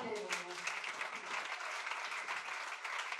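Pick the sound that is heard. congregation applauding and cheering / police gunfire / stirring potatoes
congregation applauding and cheering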